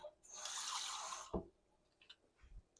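A kitchen tap runs for about a second, giving a steady close hiss of flowing water into a container. It cuts off with a soft thump, followed by a few faint clinks and small handling noises.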